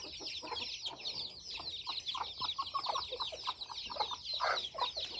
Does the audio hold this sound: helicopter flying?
no